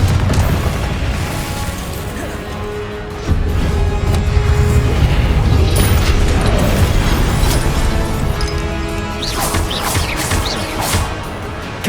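Confringo spell blasts in the video game Hogwarts Legacy rumble and crash continuously, a dense, loud wash of booms, bursts and debris layered through chaotic combat.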